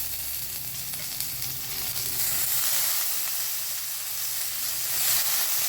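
Soaked peanuts hit hot oil with asafoetida and sizzle steadily up close, the hiss swelling midway and holding strong, with faint stirring underneath and no speech.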